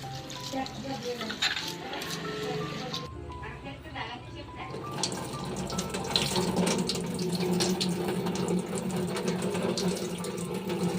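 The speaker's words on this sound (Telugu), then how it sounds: "దీన్ని వాటర్లో ఇలా వేసేసుకొని శుభ్రంగా కడిగేసుకోవాలి" Water runs and splashes steadily in a sink as small fish are rinsed and swished by hand, with a brief quieter pause partway through.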